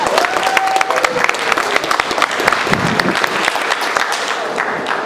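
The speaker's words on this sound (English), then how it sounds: "I want everybody to give him an applause because he's doing a great job in that" An audience at an international conference applauds for a translator, a steady dense burst of many hands clapping that fills the room, with a brief tonal whistle-like line early on over the clatter.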